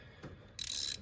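A ratcheting wrench working exhaust manifold bolts loose on a Chevrolet Silverado, a quick soft click followed by a short, faint burst of rapid ratchet clicking up close.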